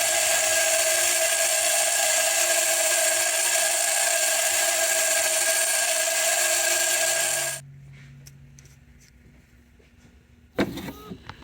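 A power tool cuts supercharger mounting studs and bolts during a Kenne Bell 2.6L supercharger install on an SVT Lightning, giving a loud, steady, high whine for several seconds, then quieter shop ambience and a final sharp clunk.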